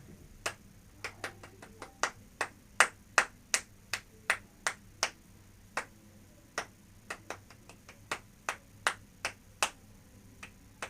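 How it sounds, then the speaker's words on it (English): A student claps out a practice rhythm during a violin lesson: crisp, close hand claps in an uneven pattern of short and longer gaps, about two dozen in all, with no talking over them. "Do the whole thing again, just clapping."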